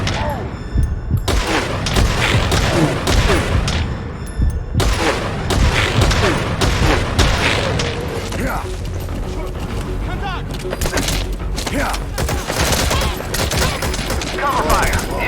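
Covering gunfire in the video game Metal Gear Solid 5 keeps up as dense, loud, continuous volleys with booms, under radio-style voices.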